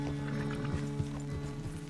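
Horse hooves clopping in Red Dead Redemption 2, a steady run of light hoofbeats at moderate distance under a low musical or ambient hum, with no talk.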